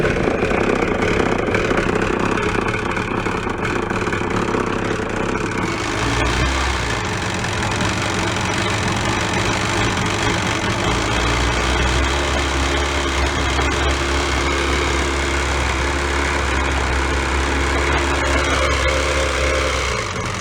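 A yard sale jet ski engine idles loudly and steadily up close for the whole stretch, a constant rough low drone with a deeper vibrating rumble settling in partway through.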